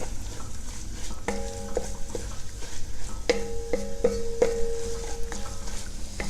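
Allspice, paprika, cloves and oregano sizzle in a pan for Cuban ropa vieja under a steady frying hiss, broken by repeated metallic clinks and scrapes of a utensil against the pan.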